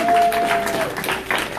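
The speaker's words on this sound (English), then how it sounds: "Please give a warm round of applause for Ashley Gilliam." An audience at a political club meeting applauds to welcome a speaker, a short, dense wash of clapping with crowd noise and a voice faintly mixed in.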